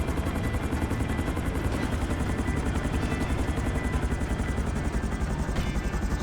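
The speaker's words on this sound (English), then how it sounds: "here you already have a helicopter, so it's a simple thing as to just land there" Helicopter in GTA 5 coming in to land, its rotor beating in a steady, loud, close chop with a constant engine whine running under it the whole time and no one talking.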